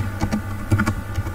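Quick bursts of keystrokes on a computer keyboard, close and fairly loud, several taps in a brief irregular run with no talking.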